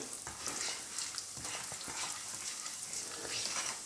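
Black cumin seeds and ground chilli fry in hot oil for a chicken curry, giving a steady, close crackling sizzle with small pops throughout.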